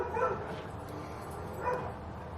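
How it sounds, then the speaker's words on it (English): A dog barks twice, close and fairly loud, over a steady background hum of a workshop where someone is wrapping a cold blast model with dull clippers. "No, come on. Be quiet, dog."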